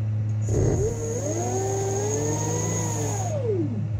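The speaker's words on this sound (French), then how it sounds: "Donc là, on voit que le moteur veut démarrer." An electric motor on a 48V 1500W controller set to 65 volts tries to start with a rising, wavering whine and a steady high tone over a constant hum, lasting a few seconds.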